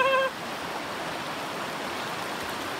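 Steady broadband rush of a waterfall and strong river current at a tropical homestead, constant and fairly close, with a short tonal whistle-like sound at the very start.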